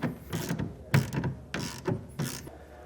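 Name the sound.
ratchet with 1/2 inch socket tightening tonneau cover clamp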